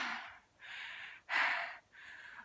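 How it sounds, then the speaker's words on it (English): Heavy panting after a jump rope workout, four loud, breathy gasps in an uneven rhythm, close to the mic with no talk. "I'm panting really heavily."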